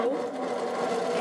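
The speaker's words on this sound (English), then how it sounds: "I'm going to put this in my sewing machine, line it up on my 1/4 inch, and sew" Sewing machine stitching batik quilt pieces at a quarter-inch seam, a steady, close, fast mechanical whir with no talk.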